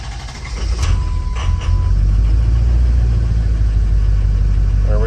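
A 6.0 diesel engine cranks over after a high-pressure oil pump repair, a steady low mechanical churn that builds and holds loud and close for several seconds, with no talking.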